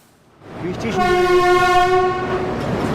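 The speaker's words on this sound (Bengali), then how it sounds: "আমাদের ট্রেন আর কিছুক্ষণের ভিতর এসে পৌঁছাবে আসানসোল" Horn of the Sealdah–New Delhi Rajdhani Express rising out of a low rumble into a long, loud, steady multi-tone blast that holds for about two seconds, heard close from on board.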